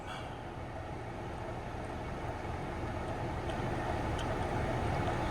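A 2013 Ford Taurus HVAC blower fan runs on low, blowing cold air, as a steady broadband whoosh that stays even and continuous throughout, close and moderately loud with no talking.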